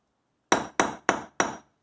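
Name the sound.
ball-peen hammer hammering metal earring frame on steel block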